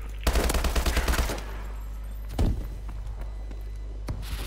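Rapid automatic gunfire in a video game, a loud sustained burst of shots at the start, then a single heavy report and a few scattered shots, close and dominant over faint background.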